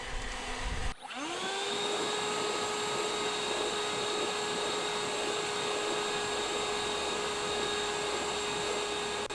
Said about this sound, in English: So now I'm going to run those same 3 blowers through the same test, except this time with the heavier rug hanging on the bar.